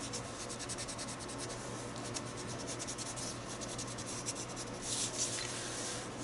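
A pencil is drawing a face on paper, making a continuous close, soft scratching and rubbing with quick repeated strokes, steady throughout with no talking.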